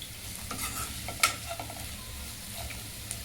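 Onion and turmeric sauté in a pan, a steady soft sizzle with scraping stir strokes and one sharp clink of a utensil near the middle.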